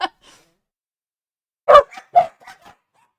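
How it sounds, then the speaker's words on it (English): A dog barks several times close by, one sharp bark at the start, then a short burst of three or four barks and yips after a brief silence. "And dogs are crazy."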